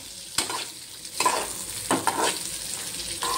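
Stuffed okra (bhindi) sautés in a pan, a close crackling sizzle broken by several scraping stirs at an irregular rhythm.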